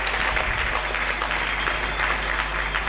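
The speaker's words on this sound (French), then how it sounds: "Nous acclamons très fort pour nous." A church congregation applauds loudly during a sermon service, dense steady clapping filling the whole stretch without pause.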